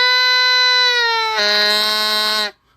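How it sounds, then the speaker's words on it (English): A goose call starts on a clear reedy tone, then shifts into a harsher, raspy buzz as the tongue moves up and forward. The sound is loud and close and lasts over a second before stopping sharply. "Now, to get it that buzz sound and get it correct placement on your tongue"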